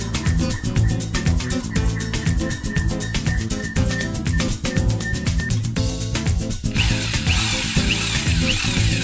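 A power drill grinds steadily and loudly, close up, as it drills out a bolt during a transmission service on a 2006 Sprinter Vista Cruiser, with rattling mechanical pulses throughout and no talking.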